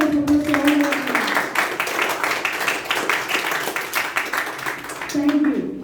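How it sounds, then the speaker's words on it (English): An audience at a youth leaders' meeting claps for several seconds in a dense, steady round of applause, with a speaker's voice heard before and after. "please let us put our hands together to give a big round of applause to all our leaders"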